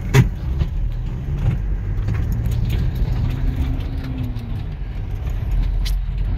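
A car being driven gives a steady low engine and road rumble from inside the cabin, with small rattles and clicks over the drone and no talk.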